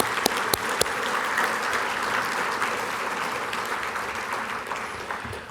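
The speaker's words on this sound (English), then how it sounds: "Let's give them a round of applause." An audience at the Luzerne County Sports Hall of Fame ceremony applauds three new inductees, a full, steady wash of clapping with a few sharp claps near the start, continuing at even loudness throughout.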